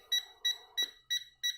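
A Tesmen TM-510 multimeter's cable detector sends out five clear electronic beeps in an even pulse, each short and bright, with no voices.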